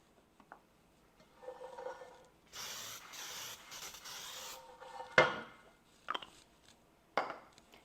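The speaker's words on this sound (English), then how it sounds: "I'm going to spray my cast iron pan with just some cooking spray." Cooking spray hisses onto a cast iron pan in a single sustained spray burst of about two seconds, framed by faint handling rustles, then sharp metallic knocks and clatters as the can and pan are set down.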